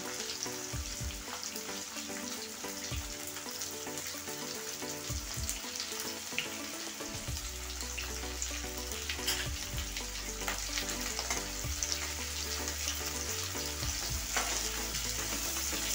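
Thinly sliced onions for chowmein frying in a pan, a loud continuous sizzle with crackling and occasional stirring scrapes, close up and without talk.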